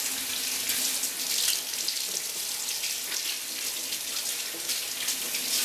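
A kitchen tap runs steadily into a sink while produce is rinsed before juicing, a continuous splashing rush of water with small shifts in the flow.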